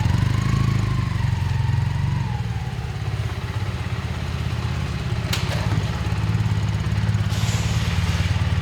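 A 1979 Honda CM400A motorcycle engine runs steadily nearby. Its low, even putter is loud, with light mechanical clatter and one brief metallic tick partway through, and no one speaks.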